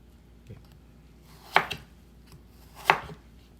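A knife chops through roast Peking duck on a board, with two sharp, loud cuts spaced over a second apart and a softer tap beforehand, close up with no voices.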